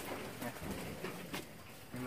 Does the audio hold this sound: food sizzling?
no